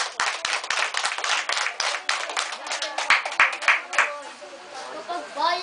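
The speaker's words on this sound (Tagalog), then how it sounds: "Ang hiling ko'y salubungin ng palakpak ang dalawa." An audience at a Filipino balagtasan poetry debate claps to welcome two poets, with sharp, uneven hand claps under a crowd murmur, fading as a voice begins speaking near the end.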